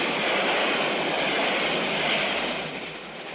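A steady metallic rattling rush of tin toy trains running along a track, continuous and fairly loud, easing slightly toward the end.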